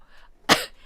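A single sharp cough from a person at the end of a live-streamed show: one loud, close burst with a short rough tail. The moments before and after are quiet.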